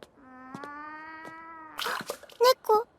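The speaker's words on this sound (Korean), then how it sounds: "네, 고양이를 발견하게 되었죠." A drawn-out cat meow rises and holds, followed by a few shorter, higher mews and some clatter, fairly close.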